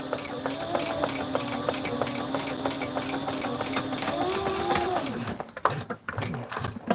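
Sailrite sewing machine stitching a Velcro strip onto a flight suit, running steadily with a rapid, even rhythm for about five seconds before stopping, close and fairly loud.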